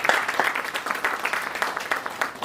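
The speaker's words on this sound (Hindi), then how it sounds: "एक बार जोरदार तालियां बजाएं" Applause from an audience at an agricultural industry event in India, brisk and uneven, loud at the start and continuing for a couple of seconds.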